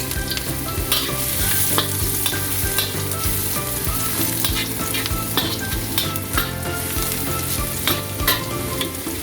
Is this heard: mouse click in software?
no